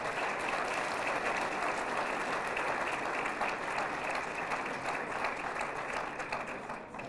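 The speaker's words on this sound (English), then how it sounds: "give yourselves a round of applause" A room full of volunteers at an Albuquerque city news conference breaks into sustained applause, a steady crackling wash of many hands that holds evenly for several seconds before easing off slightly at the end.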